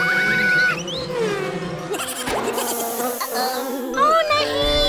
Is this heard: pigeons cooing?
no